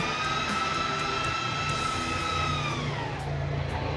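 The cooling fan of a class D power amplifier roars at power-on, a loud, steady whine with tones that slowly dip as it settles, alone and close.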